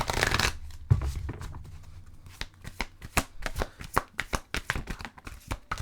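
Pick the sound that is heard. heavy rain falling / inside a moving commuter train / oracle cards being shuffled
oracle cards being shuffled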